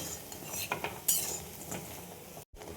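Masoor dal lentil fritters frying in a pan while being flipped: a soft sizzle under scraping and clinking of a spatula against the metal, with a few sharper taps, close and fairly quiet.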